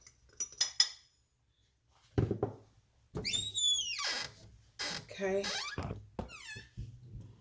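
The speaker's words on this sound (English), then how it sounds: "I'm just going to stir this all together and combine it" A beef rib sauce mixture gets stirred in a bowl, with a spoon clinking and scraping against the sides in short bursts, separated by quiet gaps and mixed with intermittent squeaky sounds.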